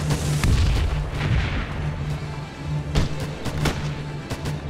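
Artillery and gunfire in the Theatre of War strategy game, a WWII German mission: repeated heavy booms and sharp shots in an irregular rhythm, loud and close over a continuous low rumble, with no talking.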